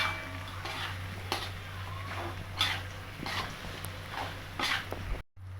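A utensil stirring fried vegetarian mutton in a pan, with several distinct scraping clinks spaced about a second apart over a steady low hum, fairly quiet and close, with no talking.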